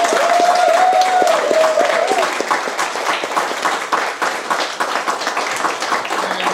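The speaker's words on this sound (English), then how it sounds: "Let's give them a big hand of applause." An audience at a poetry collection launch at Pineider in New York breaks into loud, sustained applause, dense clapping that carries on throughout after a short tonal sound at the start.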